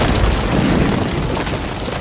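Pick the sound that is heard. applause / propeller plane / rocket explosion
rocket explosion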